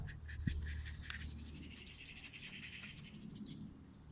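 Dry paintbrush scratching across canvas while painting a winter woodland scene outdoors, a soft, rapid bristly scrubbing in short repeated strokes, close and fairly quiet, with no talking.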